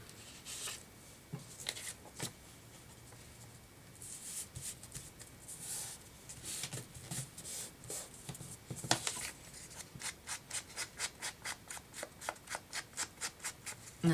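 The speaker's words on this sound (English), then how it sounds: "And then I'm going to fold it up." Paper being folded and creased by hand for a library pocket: soft rustling and rubbing, then a rapid rhythmic series of firm creasing strokes, close and fairly quiet.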